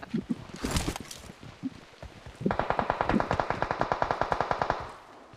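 Automatic gunfire in the mobile battle-royale game PUBG Mobile: a few scattered shots and thumps, then a long, rapid, evenly spaced burst of rattling shots for about two seconds that stops abruptly.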